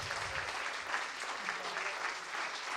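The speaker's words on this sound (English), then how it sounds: "How about a big round of applause for everybody?" Audience applause at a general membership meeting, a continuous, even wash of clapping through the room with faint voices mixed in underneath.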